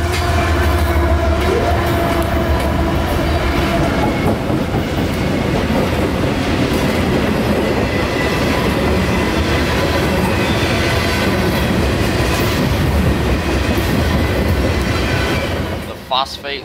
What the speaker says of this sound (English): we get another northbounder, Q604, mixed freight